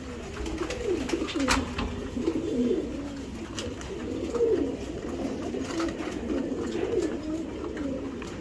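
Racing pigeons that have raced for a club coo in a steady, continuous murmur of overlapping low calls, close and fairly loud, with a few faint clicks and no talking.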